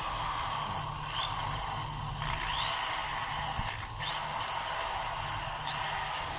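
A DeWalt D21710 1/2-inch hammer drill with a stiff reverse switch and an intermittent hammer action runs nearby, giving a steady whirring hiss with no talking.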